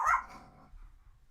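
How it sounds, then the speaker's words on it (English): A dog gives a single loud, close bark that trails off into quiet low rumbling. "my dog just started barking"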